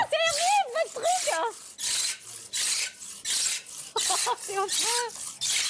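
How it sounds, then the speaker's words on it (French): A stone-carving tool rasps and scrapes against rock inside a large troglodyte cave dwelling, in harsh repeated strokes, while a person talks between and over the scraping. "c'est un dévorant, parce qu'il gratte la pierre"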